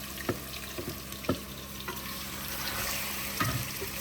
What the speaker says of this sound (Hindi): हम लोगों ने डाल दिया है ऑयल, और ऑयल कड़कड़ा रहा है